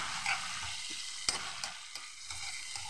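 Vegetables sautéing in a pan for fried rice give a steady close sizzle, broken by a few sharp scrapes and clacks of stirring, with no talk.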